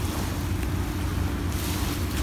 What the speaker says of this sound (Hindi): ये देखो ये लहरें आने लग गई क्योंकि वो कश्ती गुजरी है